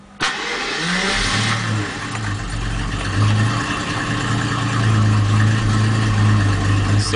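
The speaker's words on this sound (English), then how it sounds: "here we're gonna start the Jag" A warm 1989 Jaguar XJS V12 starts with a sharp crank, then settles into a loud, close, low idle that gurgles and rises and falls slightly in pitch and speed.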